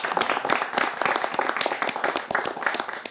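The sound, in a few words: studio audience clapping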